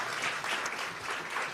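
Brief burst of audience applause, steady and moderately distant, lasting under two seconds with no voices over it.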